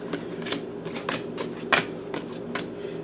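Tarot cards are drawn and shuffled close up, a series of sharp papery flicks and snaps in an uneven rhythm, one louder slap near the middle, without talk.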